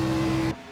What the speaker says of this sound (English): You can kind of hear him backing out of the throttle a little bit earlier than normal